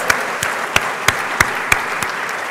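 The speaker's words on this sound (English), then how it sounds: "I think the staff of the faculty need a round of applause." A crowd at a pharmacy faculty white coat ceremony applauds the faculty staff, with crisp, evenly spaced claps standing out over a steady wash of clapping for a few seconds.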